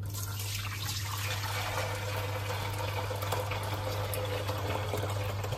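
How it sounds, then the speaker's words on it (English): Strained pink tea (namkeen chai) is poured back into the pot, a soft continuous liquid trickle and splash with a low steady hum underneath. "So pour the strained tea back in here."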